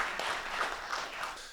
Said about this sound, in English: Round of applause for Ayelen, please.